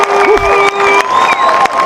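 A large crowd at a political rally cheers and shouts steadily, loud and continuous, with a voice speaking over the noise.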